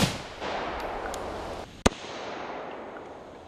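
A rifle round strikes a homemade armor plate of marble tile over two layers of 3/4-inch plywood, giving one sharp, loud crack that stands alone against a steady background hiss.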